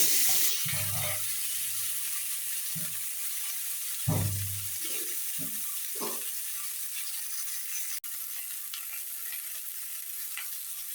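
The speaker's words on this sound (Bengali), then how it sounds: "এখন এই তেলের উপরে প্রথমে আলুটা আমি ভেজে নেব।" Small potatoes, put into oil that was just used to fry rohu fish, give off a steady, loud hiss of frying that continues through the whole stretch. Occasional clinks and stirring knocks rise above it, and no one speaks.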